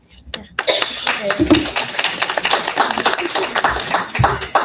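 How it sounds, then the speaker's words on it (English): A crowd at a school board meeting claps steadily for several seconds, a dense wash of applause that swells and holds, with a few scattered voices underneath. "Please give another round of applause for Cassidy."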